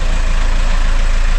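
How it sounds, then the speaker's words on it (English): A diesel engine idles after starting on a battery kept on a trickle charger overnight, a loud, steady low rumble that stays constant throughout. "engine runs great."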